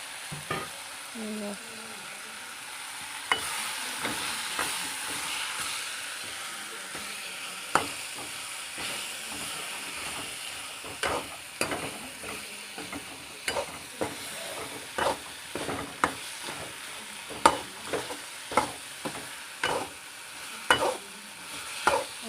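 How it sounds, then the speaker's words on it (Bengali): Pumpkin stems and potatoes stir-fried with cooked-down spices, a steady sizzle and hiss under repeated sharp scrapes of a spatula against the pan that grow more frequent, close up and with no talk. "দিয়ে দেবো মিষ্টি কুমড়ের ডাটা আলু দিয়ে আবারও ভালো করে নেড়ে চেড়ে"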